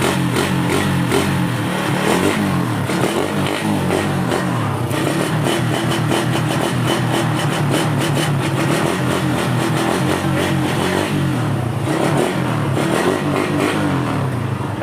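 A Suzuki Raider 150 motorcycle engine runs close and loud, with a steady rhythmic mid-pitched chug and light revving throughout.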